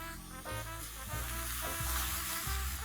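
Onions caramelizing with sugar and salt sizzle steadily in a pan, with rhythmic scraping and stirring strokes about every half second, close up and alone.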